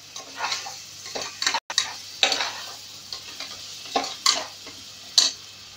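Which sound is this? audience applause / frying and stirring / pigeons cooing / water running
frying and stirring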